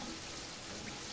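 Blood rain in the Terraria video game falls as a steady, dense patter of raindrops, a continuous even hiss with no pauses for the whole stretch.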